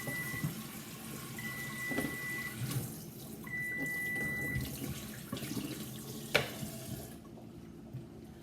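Hot water runs steadily from a kitchen tap into a two-sided sink, a continuous close splashing rush that stops near the end, with a sharp clunk just before it cuts off.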